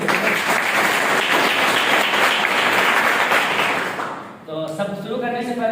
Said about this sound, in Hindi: एक बार जबरदस्त अपने लिए हो जाए तालियां, एक बार अपने लिए।